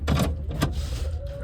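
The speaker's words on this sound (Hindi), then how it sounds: "लेकिन पहले शीशा तो बंद कर लूँ।" A car's electric power window winding shut after parking, a short motor whir running about a second and a half, close and moderately loud with a brief mechanical thump near the start.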